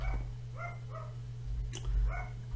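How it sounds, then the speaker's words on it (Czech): A pet dog barks indoors in a few quick yaps and short whining barks, moderately close, over a constant low electrical hum. "Jestli slyšíte nějaké zvuky, tak to je můj pes."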